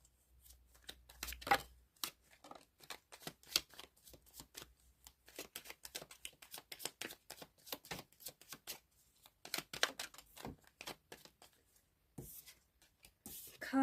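Tarot cards are shuffled by hand, a quiet, close series of crisp riffling and flicking bursts with cards slapping down, irregular in rhythm over several seconds.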